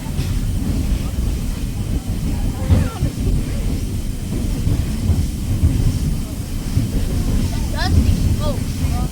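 A train on the Oregon Coast Scenic Railroad near Tillamook rumbles along with a heavy, continuous low roar and wind buffeting the microphone, and voices are faintly audible.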